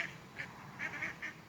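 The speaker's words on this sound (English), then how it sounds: "That was a duck." A duck out in the dusk quacks several times in short bursts, faint and at a distance, with no voices over the calls.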